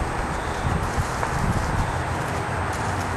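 Soft hoof clops of a Friesian gelding walking at an easy pace on a loose rein, faint and irregular, with wind and outdoor rustle around them.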